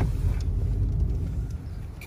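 A car moving steadily on the way to a road accident, its engine and tyre rumble low, continuous and close throughout, with no talking.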